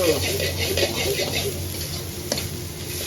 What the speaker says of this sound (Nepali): सुकुटी राखेर एकछिन सटे गर्नेछु।